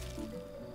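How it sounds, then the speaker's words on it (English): Potato crops being watered in a cozy farming video game: a brief soft splash of pouring water with a squishy drip, heard faintly under a steady low background hum. "And then water them"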